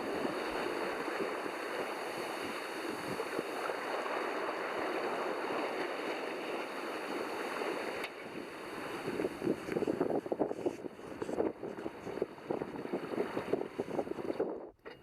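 Steady rushing of water along a sailboat's hull at about 6 knots while broad reaching and running, with wind buffeting the microphone, growing choppier and more splashy toward the end.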